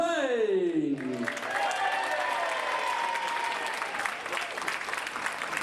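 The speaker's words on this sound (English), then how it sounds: "the crowd here in Yarmouth giving Steve Quintain a great reception as usual" A wrestling crowd in Yarmouth applauds steadily as the Tattooed Warrior Steve Quintain, British Cruiserweight Champion, makes his entrance, with dense sustained clapping and cheering after a ring announcer's voice fades out at the start.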